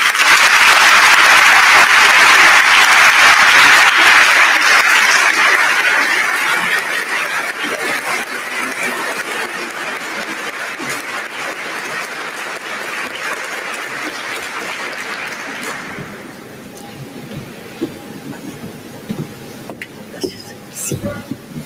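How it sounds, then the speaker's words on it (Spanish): A crowd at a launch event for a cancer treatment center in Colombia applauds loudly and densely for several seconds, then the clapping thins and fades out, leaving scattered sparse claps and room noise. "Por eso recibámoslo con un fuerte aplauso"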